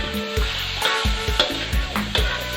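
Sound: stir-frying pork belly with fermented kei khem

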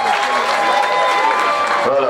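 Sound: applause at a wedding ceremony

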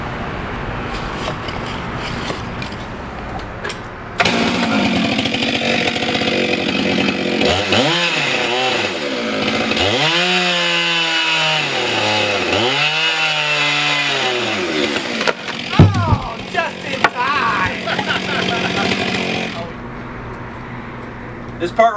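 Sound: chainsaw cutting large white oak log

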